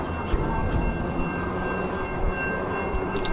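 A train rumbles past a railroad crossing on a rainy day, heard from an eBike stopped nearby; a loud, continuous low roar and clatter of rail cars fills the whole moment without pause.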